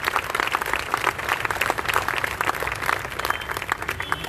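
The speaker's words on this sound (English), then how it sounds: "Let's give them a round of applause" Applause at a human rights protest breaks out for the police and officials, with a crowd clapping steadily and densely for a few seconds.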